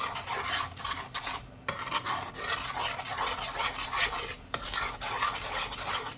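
Cornflour being mixed into a homemade sculpture paste of glycerin and vinegar, a close, rhythmic rasping scrape of a tool working through thick paste in repeated strokes, with short pauses and no talking.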